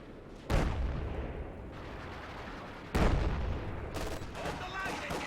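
An artillery barrage in Company of Heroes, two heavy booming impacts a few seconds apart, each trailing into a rumbling decay, with further blasts and crackling fire in the background.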